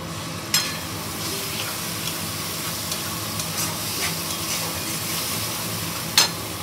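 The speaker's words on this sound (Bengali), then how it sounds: "এবার আমি মশলাটা ভালো করে কষাতে থাকবো" A spice paste of ground cashew, melon seeds and ginger sautéing in a pan, a constant close sizzle with occasional light stir scrapes and two sharper clinks, no voices over it.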